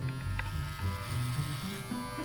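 A hair clipper marketed for bald fades buzzes steadily and close up for the whole stretch, a constant electric hum with no talking over it.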